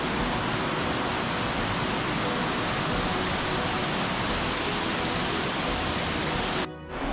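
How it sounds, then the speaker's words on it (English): A large mountain waterfall roars with a steady, dense broadband rush, loud and unbroken, cutting off abruptly near the end. "The crux of the traverse is a large waterfall that you cross beneath."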